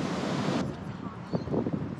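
Wind buffeting the microphone beside the water at Newcastle Harbour, with waves washing and splashing nearby, loud and continuous with a few sharper surges toward the end.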